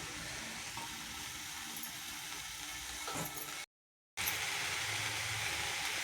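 A spoon stirs mung bean curry with salt, chili powder and coarse peanuts in a pan, making a steady soft scraping sizzle that continues throughout, with a short silent gap partway.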